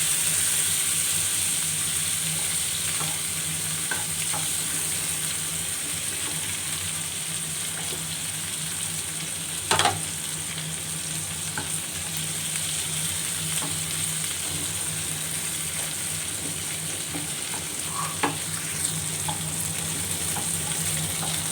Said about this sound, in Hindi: अब मैं इसमें टमाटर ऐड कर देती हूँ। पाँच मिनट तक हम टमाटरों की इसमें सही से भुनाई करेंगे।